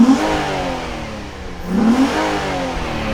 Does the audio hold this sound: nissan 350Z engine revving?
yes